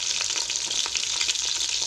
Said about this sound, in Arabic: مي يقلي وكسوم